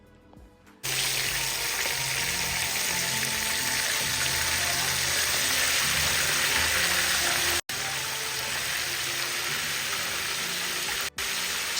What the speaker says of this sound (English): then you fry it in hot oil, very hot oil